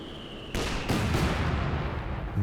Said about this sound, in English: mortar pit barraging the infantry support gun